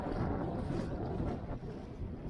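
Strong wind roars steadily across a lake from a fishing boat, buffeting the microphone with broadband rushing noise throughout, no voices.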